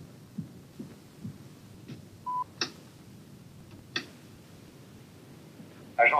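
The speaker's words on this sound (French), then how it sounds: "Après le top sonore, ce sera à vous de parler." Answering machine beep tone: a single short, clean electronic beep in the middle of a quiet line with soft clicks and thumps around it, followed by a burst of noise at the end.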